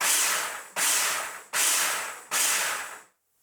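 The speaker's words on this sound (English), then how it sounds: "put the lid on and just give it a little buzz to mix everything together" A food processor buzzes in four short pulses, mixing dry pizza dough ingredients with oregano under the lid; each burst is loud and steady with brief gaps between, then the motor stops.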